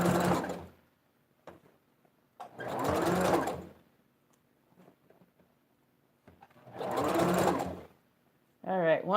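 A sewing machine stitching a wig runs in three long, loud bursts separated by pauses. Brief quiet handling noises fill the gaps, and a voice starts at the end.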